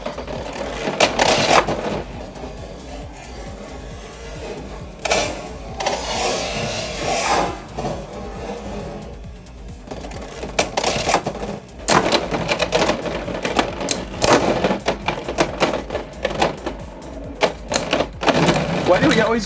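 Beyblade X spinning tops clash inside a plastic battle arena, giving bursts of rapid rattling, scraping and sharp collisions that rise and fall over several seconds, with voices talking in between.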